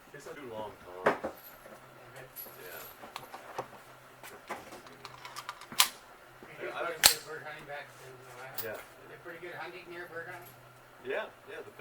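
Sharp, light cracks from a Smith & Wesson Model 22A pistol firing CCI Mini Mag .22LR rounds ring out at an outdoor range, several irregular shots spread across the clip under ongoing conversation.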